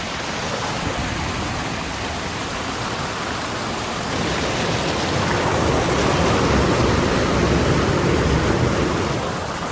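Water flowing out of the end of a clogged pipe, a steady and fairly loud rushing wash of water that runs without a break and swells slightly partway through, with no talk.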